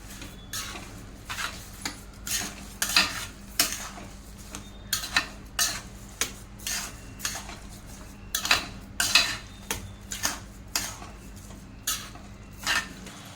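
Carrot halwa being stirred with sugar in a metal pan: a rapid, irregular run of spoon scrapes and clinks against the pan, close and fairly crisp, with no talking.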